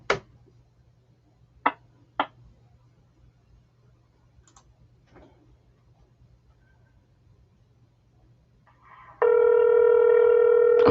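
A telephone line during a call transfer: a low steady hum with a few sharp clicks, then a loud sustained ringing tone at the end.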